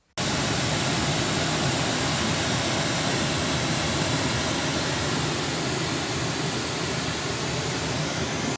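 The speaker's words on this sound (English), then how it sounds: "here's some pink noise just through the Symfonisk by itself with no sub" Steady pink noise test signal played through an IKEA Symfonisk speaker on its own without a subwoofer, a loud, even broadband hiss that holds constant for the whole stretch with no other sounds.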